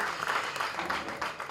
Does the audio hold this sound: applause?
yes